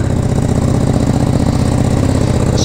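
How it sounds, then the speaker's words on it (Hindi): A motorcycle with an SC Project exhaust, a used superbike on sale at a Bangalore dealer, idles steadily and loud and close, with a constant low engine rumble throughout and no talk. "SC project exhaust,"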